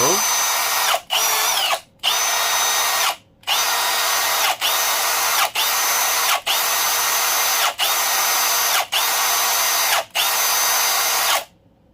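A Milwaukee cordless power tool on a revived battery pack whirs loudly in long bursts, stopping briefly and starting again about ten times, close by with no one talking.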